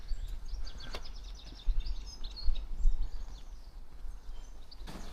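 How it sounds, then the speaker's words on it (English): Small birds singing along a countryside walking path near Bradford on Avon, a run of quick high chirps and trills carrying at moderate distance over a low outdoor rumble, with a couple of sharp knocks. "So much bird life here. So much bird song."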